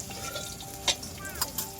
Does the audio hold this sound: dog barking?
no